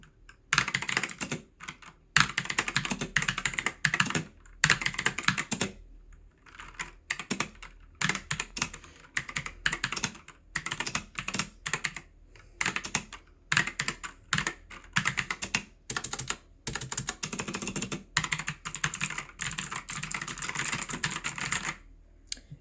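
Fast, steady typing on an Aukey KM-G12 mechanical keyboard, with dense clicky-clacky keystrokes close to the mic and a few short pauses between bursts. No voices.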